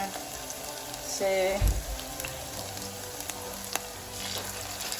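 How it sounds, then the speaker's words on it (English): A vegan patty fries in a pan with a soft, steady sizzle and light crackle, fairly quiet. A brief low clunk of handling comes partway through, and a voice says a word early on. "We are frying our patty."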